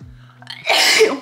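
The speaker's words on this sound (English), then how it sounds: "It always makes me sneeze," A single sharp sneeze while applying makeup, close and loud, preceded by a brief vocal intake.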